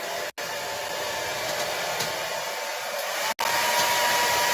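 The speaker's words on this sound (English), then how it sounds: "let me blow dry this with the hair dryer" A hair dryer drying a napkin-decorated wood round blows with a steady, loud whoosh, cutting out for an instant twice before resuming.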